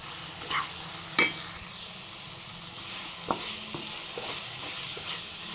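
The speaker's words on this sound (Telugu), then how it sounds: "బాగా కలుపుకుందాం" Chilli powder being stirred into a soft-cooked bitter gourd curry in a pan, with a spoon scraping and clinking several times over a steady low sizzle, up close and without talk.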